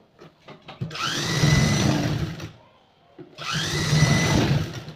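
An electric sewing machine stitching the seam of a fishcut mermaid gown, running in two bursts of steady whirring of about two seconds each, separated by a short pause. Close and loud, with a few light mechanical taps before the first run.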